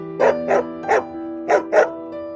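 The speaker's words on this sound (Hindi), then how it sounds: "अचानक सारे कुत्ते जोर जोर से भौंकने लगे" Several dogs barking loudly in a horror story sequence, six sharp evenly spaced barks over a steady tonal background drone, close and forceful with no voices.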